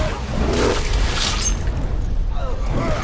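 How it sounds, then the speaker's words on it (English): Explosions during a fortress siege battle in Middle-earth: Shadow of War: loud, deep booming blasts that roll on continuously, with crackling bursts layered over a heavy rumble. "Hope you like explosion!"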